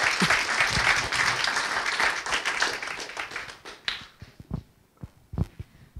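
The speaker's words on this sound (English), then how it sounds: "Please give it one more applause for Mr. Julian" An audience applauds a speaker at a talk, dense steady clapping filling the first four seconds, then thinning out into a few scattered, louder individual claps near the end.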